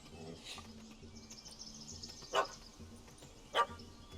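A puppy in The Witcher 3 gives two short sharp barks, spaced about a second apart, moderately close over a faint ambient game background.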